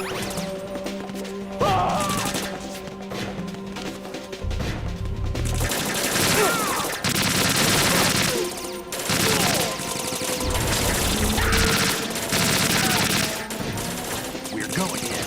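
AK rifle gunfire in a video game, loud bursts of rapid shots and crashing impacts across a dense, chaotic game soundscape, with occasional voices talking underneath.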